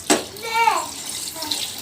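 Water poured from a vessel into a pan of chicken kothu curry, a short splashing gush up close, with a person talking over it.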